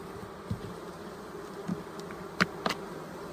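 Honey bees buzzing inside a hive during a late fall inspection, an aging colony with no young bees, giving a steady low hum with a few brief, sharper buzzes as single bees pass close.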